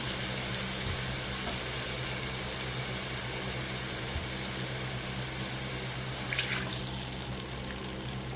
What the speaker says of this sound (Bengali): তারপরে এর ভেতরে একটু পানি দিয়ে দেবো